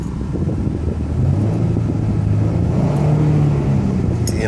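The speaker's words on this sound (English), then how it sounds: "I'm gonna rev it a couple times" A red 2013 Ford Mustang V6 engine rumbles steadily at close range, its low drone swelling slightly in pitch through a couple of gentle revs before settling back, with no voices over it.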